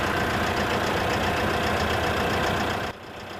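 Isuzu diesel engine in a 2016 Hitachi ZX160LC-6N excavator running steadily, a continuous loud idle rumble that drops abruptly in level near the end.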